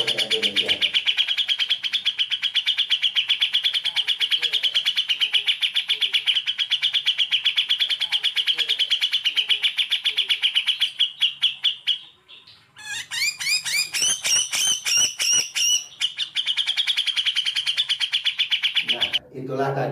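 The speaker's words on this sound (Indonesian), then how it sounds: "Itulah tadi suara cak jenggot" A cak jenggot bird sings continuously, loud and close, with rapid chattering phrases, a brief pause near the middle, then a burst of harsh, varied notes before the song resumes.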